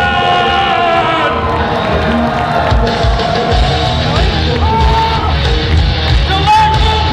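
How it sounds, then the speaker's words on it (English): A large convention crowd at the EB Expo 2012 gaming event cheers, yells and whoops continuously as the MC is welcomed on stage, a loud, dense roar with no break. "put your hands together and welcome to the stage tonight's MC, Mr. John Robinson!"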